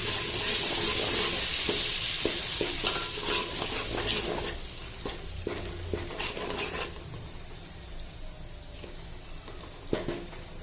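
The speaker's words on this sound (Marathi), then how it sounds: "मटन मसाला हळद आता हे सर्व चांगलं परतून घेऊ" Mutton masala, turmeric and other ground spices being sautéed in a pan, a loud sizzle at first that settles lower, broken by repeated scraping taps of a spoon against the pan.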